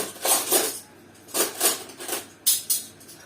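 Plates and a spoon handled in a home kitchen, with several bright clinking, scraping bursts in uneven clusters, fairly close and moderately loud with quiet gaps between.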